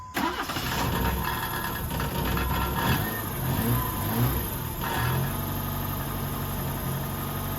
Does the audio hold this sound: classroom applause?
no